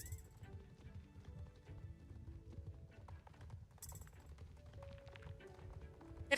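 Horse hooves clip-clopping at a steady riding pace in the Star Stable video game, a soft repetitive rhythm beneath faint background game music, with a brief bright tone near the end.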